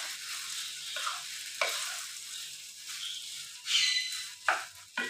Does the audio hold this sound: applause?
no